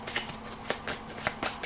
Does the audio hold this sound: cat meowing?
no